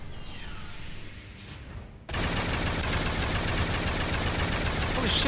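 In Duke Nukem Forever, a gun opens up in a loud continuous rapid burst that starts abruptly after a quieter stretch of game ambience and keeps going to the end.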